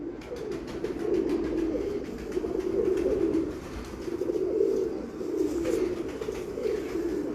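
Breeder pigeons from Kasur coo in repeated low, throaty rolling waves, close and steady, with faint chirps above and no talking.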